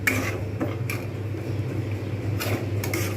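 A few faint clinks of a spatula in a pan as egg korma masala is stirred, sparse and light over a steady low kitchen hum.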